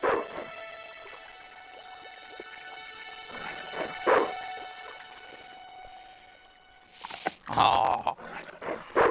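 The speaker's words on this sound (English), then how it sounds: "Where you dunk the dog in the water." A dog in the adventure game Broken Sword 2 whimpers softly amid sparse game sounds, followed near the end by a burst of splashing and thudding as it is dunked in water.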